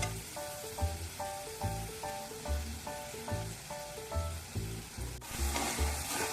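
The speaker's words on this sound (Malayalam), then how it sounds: "ഇത് രണ്ടും നല്ല ബ്രൗൺ നിറം ആവുന്നത് വരെ ഇളക്കി കൊടുക്കണം." Tuna pickle masala frying in a pan, a continuous close sizzle with rhythmic scraping knocks as it is stirred, no voices.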